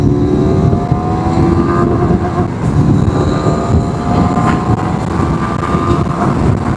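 A TVS Apache RTX300 300cc motorcycle engine accelerating through its gears, a loud continuous drone with rising tones, heard up close with heavy wind rush and no talking.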